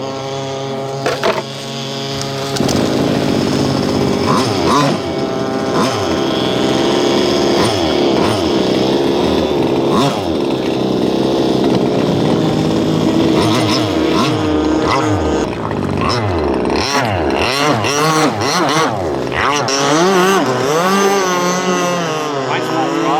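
A gas-powered 48-inch Rockstar RC catamaran boat engine is started after a brief pause and then revs loudly and raggedly up and down, a close, buzzing two-stroke whine, while people talk over it.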